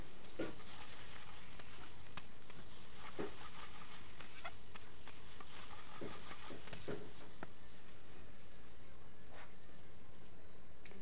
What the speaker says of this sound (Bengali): এখন আমি এতে দিয়ে দিলাম সিম বাটা। দিয়ে নাড়িচাড়ে ভালো করে মিশিয়ে নেব পেঁয়াজের সঙ্গে।